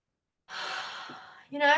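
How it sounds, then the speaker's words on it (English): A single deep breath taken slowly: a long, airy inhale of about a second, followed by the start of a louder exhale, close and clear with no other sound. "When's the last time you took a deep breath? In fact, let's do it."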